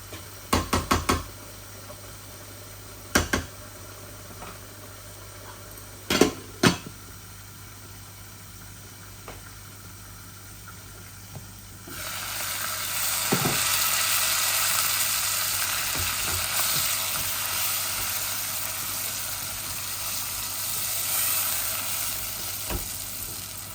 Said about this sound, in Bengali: নাড়াচাড়া করমু, এগুলা খালি কষাইমু, এভাবে খালি বুনমু